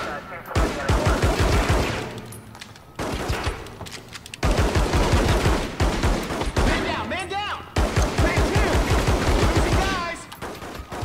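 Gunfire in the PS2 game Reservoir Dogs comes in long rapid bursts separated by brief gaps, loud and close, with a voice speaking between and over some of the volleys.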